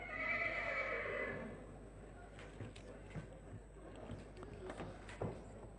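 A yearling colt neighs loudly at a thoroughbred yearling sale in Perth, a long whinny followed by an auctioneer talking over the sale-ring murmur and a few hoof clops.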